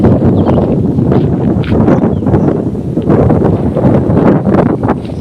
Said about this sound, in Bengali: এত দারুণ এখানে হাওয়া দিচ্ছে না খুব সুন্দর হাওয়া দিচ্ছে এখানে